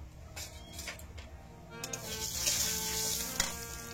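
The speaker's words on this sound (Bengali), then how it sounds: "তেলের উপর একটু হলুদ দেবো" Ground turmeric dropped into hot oil in a heated iron kadai sizzles with a steady crackle that rises and brightens partway through, with a few clicks and stirring taps over it.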